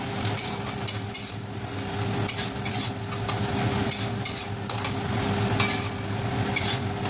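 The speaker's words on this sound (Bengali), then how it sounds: "আদা রসুন কুচিটা দিয়েও বেশ খানিক্ষণ ভাজতে হবে" Chopped ginger and garlic fry in oil in a pan for dhaba-style dal fry, a loud steady sizzle broken by repeated sharp scrapes and clinks of a spatula stirring against the metal, close and without talk.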